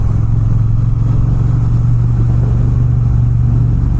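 Triumph Bonneville T120 Gold Line twin engine droning steadily while riding, a loud, close low throb with a constant rumble and wind roar, no voices.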